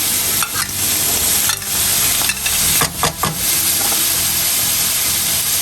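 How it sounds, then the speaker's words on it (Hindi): Bell peppers and mushrooms fry in a pan over a raised medium flame, a loud continuous close sizzle broken by a few clattering stirs. "एक मिनट के लिए शिमला मिर्च को मैं पकने दूँगी।"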